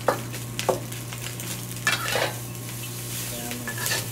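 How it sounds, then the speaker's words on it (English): Day-old cooked rice stir-frying in a hot pan for fried rice: a continuous sizzle broken by repeated scraping and stirring strokes of a utensil against the pan, close up, with no voices. "you want to probably put about 2 scoops in of rice"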